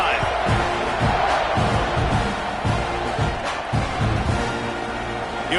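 A stadium crowd at a college football game between Texas Tech and Texas A&M roars steadily in the background while a commentator talks over the noise, with occasional thumps and whoops.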